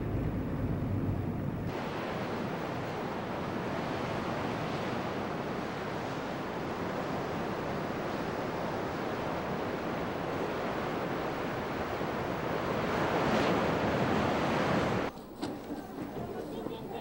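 Ocean surf and wind at a remote seashore make a steady, loud roar of breaking waves with gusty wind noise against the microphone, continuous throughout before cutting to a quieter scene near the end.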